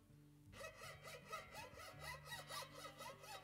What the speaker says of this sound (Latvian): Zāģējam malku, jā.